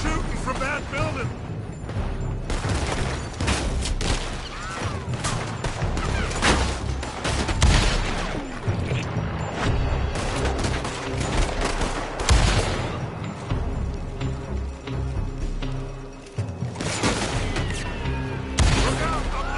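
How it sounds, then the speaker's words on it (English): Gunfire from a building in Red Dead Redemption 2, dense, loud rattling bursts of shots nearly continuous across the scene, mixed with booming impacts, game music and shouted voices. "They're shooting from that building!"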